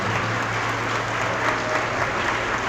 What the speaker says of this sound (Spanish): Me honran sus aplausos, pero que sean para Dios